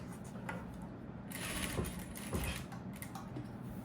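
A sewing machine runs steadily as it stitches a pocket onto a pair of ladies' pants, its quiet mechanical whirr continuous throughout with slight surges in intensity.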